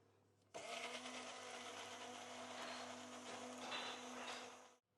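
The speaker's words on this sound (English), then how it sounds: "I'll slowly pull up on my immersion blender, and that'll turn it into a nice thick mayonnaise for us" An immersion blender emulsifies mayonnaise in a buzzing, whirring run of about four seconds. It starts abruptly and holds at a strong, steady level, then cuts off at the end, with a faint hum before it starts.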